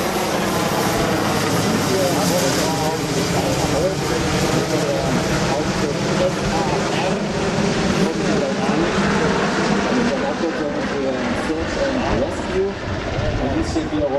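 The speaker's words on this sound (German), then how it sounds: "Es naht die nächste Attraktion hier. Ein Hubschrauber, ein Helikopter" A Sud-type helicopter flies past at an air show, its engine and rotor roar loud and continuous throughout, with a commentator's voice running over it on the public address.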